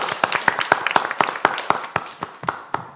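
Scattered audience clapping at a women's startup forum in Daejeon, a few distinct claps in uneven rhythm rather than full applause, fairly close and moderately loud.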